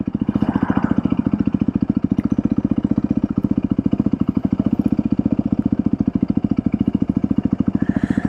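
A Yamaha WR450F dirt bike converted for street use, its single-cylinder engine thumping in a loud, rapid, even pulse up close, holding a steady idle-like rhythm throughout.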